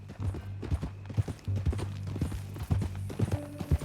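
Horse hooves clip-clop steadily in Red Dead Redemption 2, a repeated rhythm of close, distinct strikes over a low droning game background with faint voices.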